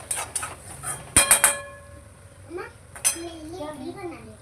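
A plate clatters onto a pan of potatoes with a few sharp ceramic-on-metal clinks, and a child's and adult's voices talk around it.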